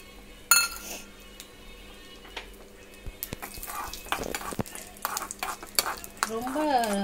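Cashews frying in ghee for beetroot halwa are stirred in a pan, with metal clinks and scrapes from a utensil over a soft sizzle, the stirring growing busier and louder toward the end.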